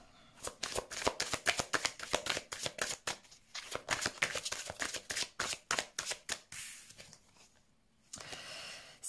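Tarot cards being shuffled up close before a reading, a long run of crisp riffling and flicking bursts in uneven rhythm, fairly quiet and with no speech.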